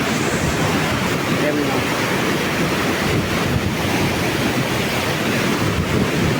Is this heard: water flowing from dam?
yes